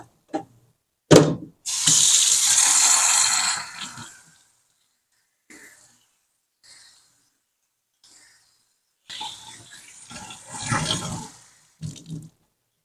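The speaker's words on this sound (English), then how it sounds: "we're going to gently rinse it out" Tap water runs over soaked yarn being rinsed at a sink, in two loud gushing bursts separated by quiet handling sounds and a few soft splashes.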